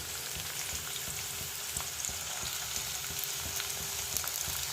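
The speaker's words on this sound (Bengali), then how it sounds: "সাদা তেল দিয়ে বেরেস্তাটা ভাজা হবে" Chopped onions frying in white oil in a kadai over medium-low heat for an egg korma, giving a steady, dense sizzle with occasional soft stirring clicks throughout.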